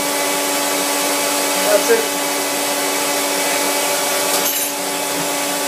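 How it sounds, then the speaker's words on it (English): A vacuum cleaner runs nearby during a washing machine repair, a loud steady whine with tonal hum, while a person speaks briefly over it and small clicks of handling cut through. "I'll just switch off that vacuum cleaner"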